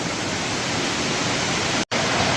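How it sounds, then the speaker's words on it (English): Water rushes out through a tight squeeze in a West Virginia cave in winter, a steady, loud, broadband roar of flow that fills the space and drops out for a moment before resuming. "the water's coming out through this like really tight little squeeze here"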